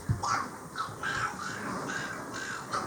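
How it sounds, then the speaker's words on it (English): A large bird perched in a tree gives several harsh, crow-like caws in a loose series, moderately near and clear over quiet outdoor background. "See that big bird in the tree right there?"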